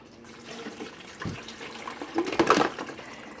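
About eight cups of water poured into a coffee maker's reservoir, a short splashing trickle close by that rises into a brief gurgling burst near the end.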